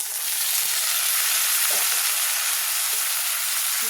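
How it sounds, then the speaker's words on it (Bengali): Vegetables and spices fry in a hot pan, a dense, steady sizzle close by, with a few faint scrapes of stirring underneath and no talking, for a homestyle dish of cauliflower and radish. "এবার ভালোভাবে কষিয়ে নেব।"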